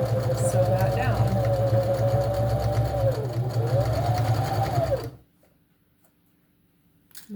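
A sewing machine runs steadily for about five seconds, stitching trim down onto fabric for a fish body, then stops, leaving near silence with a faint click at the end.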